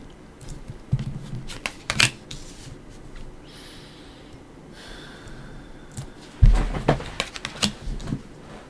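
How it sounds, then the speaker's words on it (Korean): Tarot cards are shuffled and laid out in quick flicking bursts and soft slaps, close and fairly loud, with a quieter rustling pause in the middle before another clattering run. "타로 카드 열어보겠습니다."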